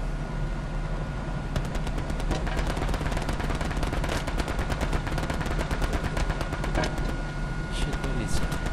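Rapid machine-gun bursts and scattered gunshots crackle through a Hell Let Loose tank battle, dense and repeated over a low engine rumble, with faint crew voices underneath.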